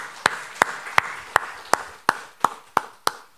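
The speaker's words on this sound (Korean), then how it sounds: "박수하겠습니다." A church congregation at a Sunday service claps in unison, nine sharp, evenly spaced claps at roughly three per second, each ringing briefly in the room, with no talking over them.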